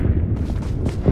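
Distant bombing-zone explosions in the new version of the shooter game Peacekeeper Elite: a deep, rolling low-frequency rumble with soft thudding booms, continuous through the short stretch.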